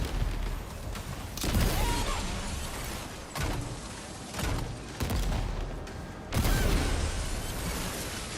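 Weapon fire in the video game Death Stranding 2: a handful of loud, broadband blasts land at irregular intervals, each leaving a short rumbling tail. No one speaks.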